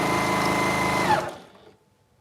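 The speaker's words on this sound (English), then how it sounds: "all I'm doing next is sewing right off one edge and right off the other" A sewing machine runs a steady, close stitching whir as fabric is sewn off the edge of a storage pod lining, then winds down and stops.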